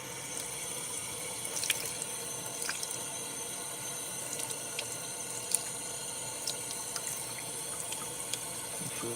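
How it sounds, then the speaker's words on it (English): Cold tap water runs steadily over a Crissy doll's hair at a sink, a continuous soft splashing stream with a few light drips and no talking. "now I'm going to run her hair under some cold water to set it"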